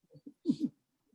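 Pet dogs in a home room during a webinar, a couple of brief soft whines or grumbling vocalizations, faint and short with no talking.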